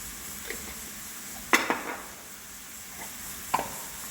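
Spices being stirred in a pan with chicken for mini quiche: a quiet sizzle underneath, with a few sharp utensil scrapes and clinks against the pan, no voices.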